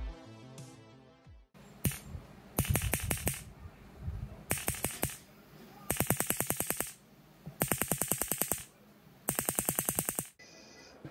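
A GUN4IR light gun's recoil solenoid fires in rapid bursts of sharp mechanical clacks, each volley of about eight to ten hits separated by short pauses, close and loud with nothing else around.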